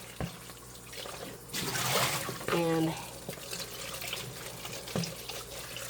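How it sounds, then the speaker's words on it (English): Warm tap water runs and splashes as a mixing bowl is rinsed out in a kitchen sink, rising and falling with a few knocks, while a person talks briefly. "I'm just going to rinse it out with warm water."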